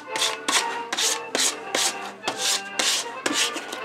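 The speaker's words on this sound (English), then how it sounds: "So you want to clean the gasket so it gets a good seal." Rhythmic rubbing strokes cleaning the gasket of a utility pump being reassembled, about eight evenly spaced scrubbing passes, close and alone with no speech.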